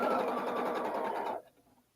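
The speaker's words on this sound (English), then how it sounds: "let me just sew along a little bit here" A sewing machine stitches quilt fabric at a mobile sewing and quilting workstation, running as a steady, even whir for about a second and a half before it stops abruptly into near silence.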